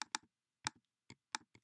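Keystrokes on a computer keyboard come in short, close clicks, a few pairs and single taps spaced across a quiet room.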